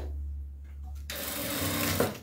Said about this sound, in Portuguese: vou passar um ponto grande aqui na máquina, para depois eu franzir e ajustar ali no peitinho do meu vestido